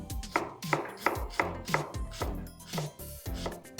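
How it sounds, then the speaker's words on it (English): A knife chops a red onion on a board in a kitchen, with quick, steady, close strikes at about three per second and no talking. "First things first, let me chop a red onion."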